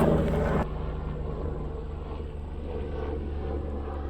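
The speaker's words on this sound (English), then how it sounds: "Helicopter." A helicopter drones steadily overhead, its low rotor thrum continuous and fairly distant, with a brief louder burst of noise at the start.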